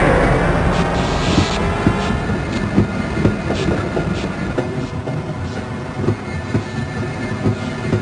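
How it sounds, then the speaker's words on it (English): Train ride on the Black Mesa hazard course in Half-Life: Blue Shift, a video game: steady rumbling rail car with rhythmic clickety-clack of wheels over track joints, continuous and fairly loud throughout with no voices. "Press your Use key to engage the train."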